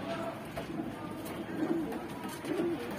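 Pigeons kept by a Saharanpur and Allahabad flying-pigeon keeper coo in low, throaty bursts, a couple of louder rolls standing out near and steady over a busy background with a voice present.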